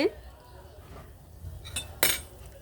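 A utensil scrapes and clinks against a pan while cardamom powder, bay leaf and cinnamon are stirred together for chana dal barfi, with two sharper metallic knocks near the end over quiet background noise.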